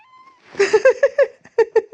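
A cat meows repeatedly in short, clear bursts, several quick calls close to the listener with a brief pause midway.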